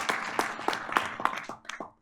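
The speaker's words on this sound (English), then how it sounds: "Y'all can clap for Ms. Applegate." Audience at a school district board of education meeting applauding, a steady run of hand claps lasting about two seconds with no talk over it.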